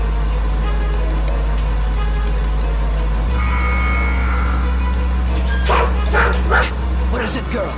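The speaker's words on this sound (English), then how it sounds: "Send in the dog." In the video game Road 96, a dog barks several times in quick bursts near the end, close and loud, after a steady low engine drone.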